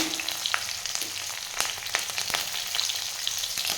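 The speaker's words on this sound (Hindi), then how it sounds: "थोड़े से हरी मिर्ची, इन सभी को डालकर मैं थोड़ा सा इस तरह से चला दूंगी।" Green chillies and bay leaves sizzle steadily in hot oil in a pan, with scattered crackles and stirring scrapes while making a Rajasthani gatta dum biryani, a continuous close frying hiss with no talking.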